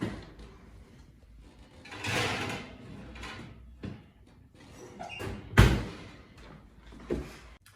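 Kitchen clatter while banana nut ginger muffins go into the oven to bake at 400 degrees, with an oven door swinging and one sharp loud clunk of it shutting amid scattered handling knocks, no voices.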